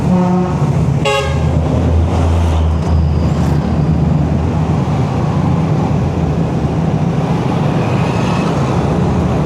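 Congested road traffic rumbles steadily with motor engines, and a single car horn toots near the start. The sound is dense, constant and close, and no one speaks.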